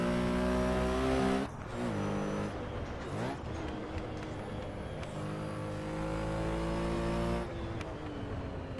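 A car laps the Nordschleife track, its engine droning loud and close, rising in pitch through each gear before dropping at several quick upshifts.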